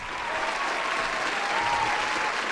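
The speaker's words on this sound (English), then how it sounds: "Oh, you need a little applause right there?" A burst of steady crowd applause, dense and even clapping from many hands with a faint tonal whistle riding over it, sustained for a couple of seconds.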